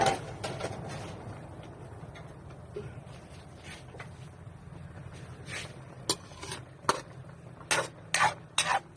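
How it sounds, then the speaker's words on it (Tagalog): A pot of vegetables for pakbet bubbles and simmers steadily at a low level, with a few sharp clinks and scraping knocks of utensils near the end. "kumulo ng kumulo para po yung mga gulay is lumambot"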